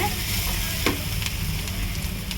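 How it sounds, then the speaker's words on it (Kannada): Kalu palya, a legume stir-fry, sizzles steadily in a pan, with a dense frying hiss and faint scraping stir sounds and no talk. "ಫ್ರೈ ಆಗ್ತಾ ರೀ ಪಲ್ಯ"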